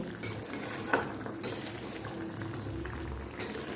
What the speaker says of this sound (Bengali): তারপর আবারও খুব হালকা হাতে একটু নাড়াচাড়া করে দিতে হবে